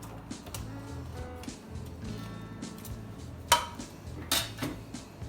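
Mediterranean salad being tossed with dressing in a bowl, soft rustling broken by two sharp utensil clinks against the dish near the end.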